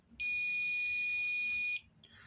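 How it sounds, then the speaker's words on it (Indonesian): An electronic buzzer switched on remotely through MQTT sounds a steady, loud, high-pitched continuous tone for about one and a half seconds, then cuts off abruptly, leaving quiet room noise. "maka buzzer akan berbunyi"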